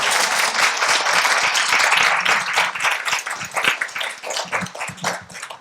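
Audience applause filling a forum hall, steady and fairly loud crowd clapping with individual claps distinct throughout the short stretch.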